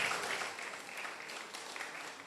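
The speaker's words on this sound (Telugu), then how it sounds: "గట్టికి చప్పట్లు కొడదాం." An audience claps steadily at a prize giving during a church golden jubilee celebration in Yellandu, Khammam, a continuous patter of many hands that eases slightly after the opening.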